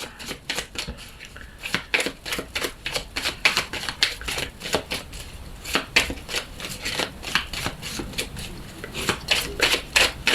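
Tarot and Lenormand oracle cards being cut and shuffled by hand, a rapid series of crisp riffling snaps and flicks repeating steadily, close and fairly quiet, with no talking.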